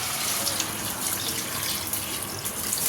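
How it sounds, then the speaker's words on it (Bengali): Water pours steadily into a pan of well-fried spice masala, a continuous close rushing splash lasting throughout with no talking. "এবার এতে দিয়ে দেবো জল।"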